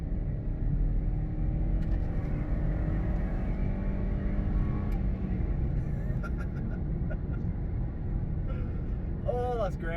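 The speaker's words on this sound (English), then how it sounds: "let's have some VTEC on this 60 road when it comes up" Honda Stepwagon Spada with a VTEC engine accelerating on a 60 road, heard from inside; a loud, continuous engine drone and road rumble rising in pitch, with a voice talking over it.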